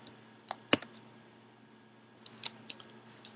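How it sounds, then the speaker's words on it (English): Computer keyboard keys are struck in sparse, uneven clicks, one sharp nearby tap followed by a few lighter ones and a small cluster near the end, with no talking. "there's so much typing"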